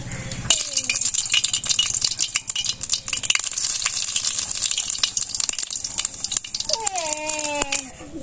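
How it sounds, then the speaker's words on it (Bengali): Cumin seeds dropped into hot oil for tempering give a sharp burst of crackling sizzle that settles into steady frying hiss, with stirring rattles and a voice speaking briefly toward the end. "একটু জিরা ফোড়ন দিলাম"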